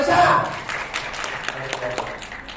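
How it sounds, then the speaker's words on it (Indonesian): Audience at an entrepreneurship training session applauds Mbak Raisa, a moderate patter of claps running the whole time, with talking over the start. "Sekali lagi tepuk tangan Mbak Raisa."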